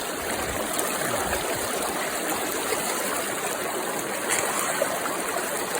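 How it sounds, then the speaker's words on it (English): Steady rushing water pours through a gold-prospecting sluice box at a Scottish stream, a continuous close, even wash with no talk over it. "So I've just got a bucket there, run it through the sluice, see what I'm getting."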